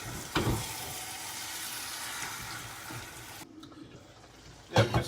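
Goat curry, Jaffna style, sizzles steadily in oil and ghee over a medium flame, a continuous close frying hiss with a few clinks of stirring, quieting briefly near the end.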